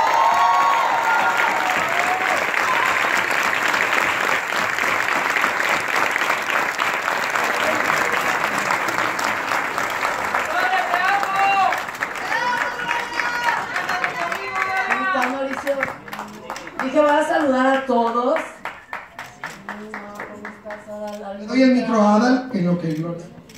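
Audience applause and cheering at a stage play's anniversary performance, a loud burst of clapping and shouts that gradually thins while voices begin talking over the fading applause.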